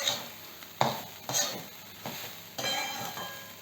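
Coconut rice being stirred in a pan with a utensil, a few distinct scraping strokes and light clinks against the metal, close and fairly quiet with no voices.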